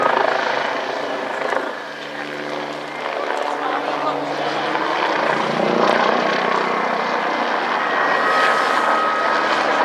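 A Bell 105 helicopter's steady, rumbling rotor drone fills the scene at an airshow, loud and constant, with a voice speaking over it.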